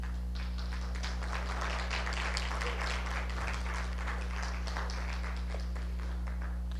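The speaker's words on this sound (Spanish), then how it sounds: "Dile un aplauso al Señor." A church congregation claps during a sermon, a soft, steady patter of applause heard over a constant low electrical hum.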